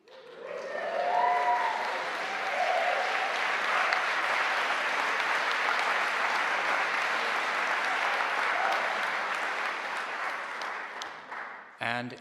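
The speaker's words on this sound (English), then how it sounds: "The BA Architecture class of 2021, do you want to give yourselves a cheer?" Architecture graduates at a Liverpool University graduation ceremony break into sustained applause and cheering, a broad steady wash of clapping that swells quickly, holds for several seconds, then tapers off near the end.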